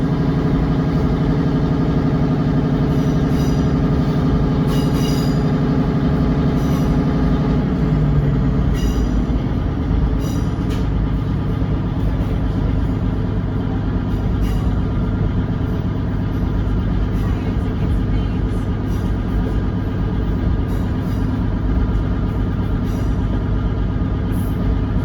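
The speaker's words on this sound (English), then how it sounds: "we quickly depart Bedford St John's half a minute early" A Class 150 diesel train pulls away from Bedford St John's on the Marston Vale Line. The loud engine rises in pitch as the train gathers speed, then settles into a steady, close rumble of running wheels and engine.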